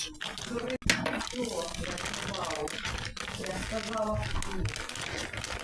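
A package of children's panama hats is unpacked, with plastic wrapping crinkling and rustling loudly and continuously up close. A brief sharp tearing sound comes early on.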